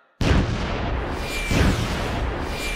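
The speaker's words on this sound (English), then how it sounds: "Now please allow me to introduce... my latest tracing missile launcher!" A cartoon tracing missile launcher fires, giving a sudden loud, booming blast followed by a second launch boom about a second later. Each is close and heavy and trails off into a rushing roar, with no voices.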